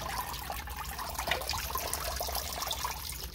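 Water trickles and drains steadily from an indoor plant pot, a soft continuous splashing dribble at close range with no voices.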